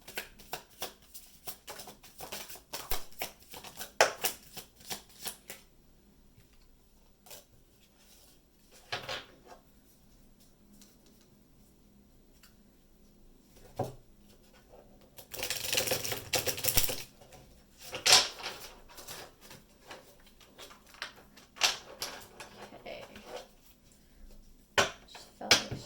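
Tarot cards are shuffled and let fall out of the deck at close range, giving dry papery riffles and taps that come in irregular bursts, with a louder, denser flurry about midway through.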